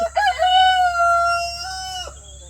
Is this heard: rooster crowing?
yes